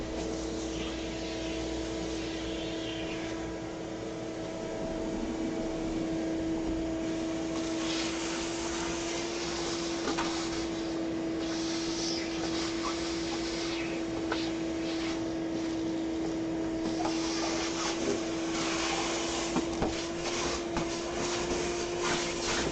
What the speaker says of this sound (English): And the vacuum is quite loud.